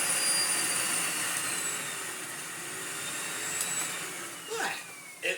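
A Miele Blizzard CX1 vacuum cleaner runs steadily on its medium setting, a constant loud whooshing drone with a brief shift near the end.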